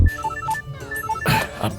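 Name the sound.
telephone ringing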